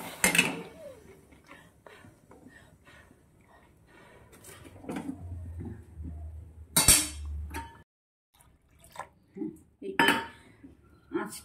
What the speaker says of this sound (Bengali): খুন্তি দিয়ে একটু নাড়িয়ে চাড়িয়ে দিচ্ছি